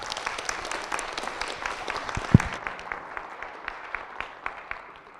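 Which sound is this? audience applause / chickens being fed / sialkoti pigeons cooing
audience applause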